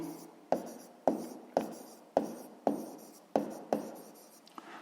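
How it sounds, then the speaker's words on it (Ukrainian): Numbers being handwritten for a sixth-grade maths exercise, heard as a close, quiet series of about seven evenly spaced pen or chalk strokes, each a short tap followed by a fading scratch. "Записуємо числа."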